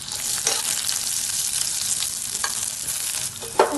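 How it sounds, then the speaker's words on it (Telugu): Sliced onions fry in oil for egg biryani, a bright steady hiss of sizzling close up, with occasional stirring scrapes and a sharper clink near the end and no talk. "వేయించుకోండి గోల్డెన్ బ్రౌన్ వచ్చేదాకా"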